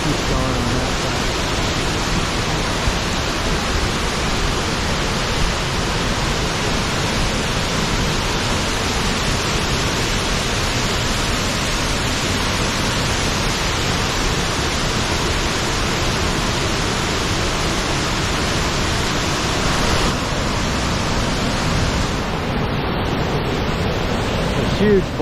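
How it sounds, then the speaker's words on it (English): A waterfall in Yosemite Valley pours with a steady, loud, broadband roar that stays unbroken throughout, close and continuous, with no clear voices over it. "Waterfall here."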